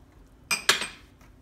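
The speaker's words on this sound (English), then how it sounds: "And we're gonna stir that and that'll thicken it up nicely." A spoon clinks twice against a pot while tapioca flour slurry is stirred into chicken broth, two short close metallic taps in a quiet kitchen.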